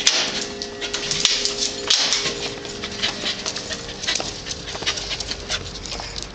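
A dog pants quickly and whimpers softly before its dinner, close and fairly steady, with small clicks and shuffles from its movement and no talking.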